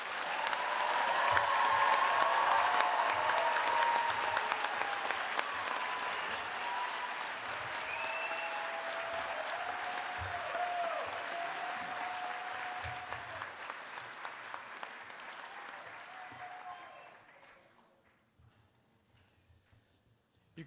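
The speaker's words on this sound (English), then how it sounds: "Let's give them all one final round of applause." An audience at a biomedical engineering commencement ceremony gives a long round of applause, dense and sustained clapping from a large crowd that slowly thins and then stops abruptly.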